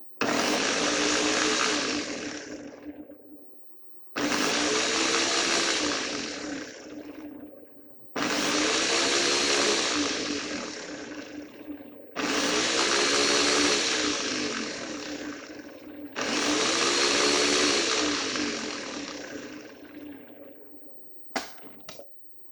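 A kitchen blender whirs loudly in five long bursts of several seconds each, separated by short pauses, as vegetables are blended, with no voices.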